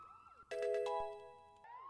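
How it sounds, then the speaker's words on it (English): Alarm sirens sound in the video game Pokemon Colosseum: a sudden bright electronic tone starts halfway through, holds with layered pitched notes, then fades back to quieter game sounds. "the sirens are still going off"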